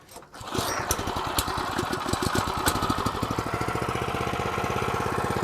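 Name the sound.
McLane reel mower engine starting and idling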